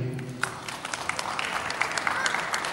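Audience applause at a children's health contest award ceremony: dense, steady clapping from a crowd that holds at a moderate level for the whole stretch, with no clear voices standing out.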